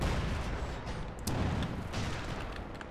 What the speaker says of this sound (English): support guns opening fire, I'm assuming on the infantry here